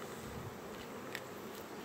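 Faint, steady hum of honey bees buzzing around a beekeeper's hive during a honey harvest, a soft continuous drone with no voices.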